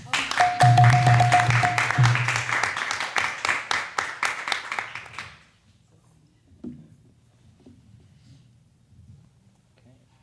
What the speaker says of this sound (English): Another round of applause for Breathe.